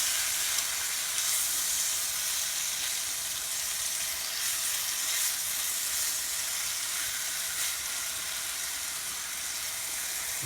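Pieces of chuck roast brown in a pan on high heat, giving a steady, close, bright sizzle that holds evenly throughout with no talking.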